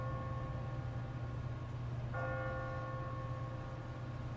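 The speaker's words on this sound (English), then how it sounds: "What kind of church bell goes off at 20 past the hour?" Church bell on an automatic timer striking at twenty past the hour, two resonant tolls ringing out with long sustained hum over a low steady background drone, no voices.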